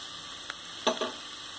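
Ginger garlic paste frying in a pan for Hyderabadi mirchi ka salan, a quiet steady sizzle with a couple of brief stirring scrapes near the end.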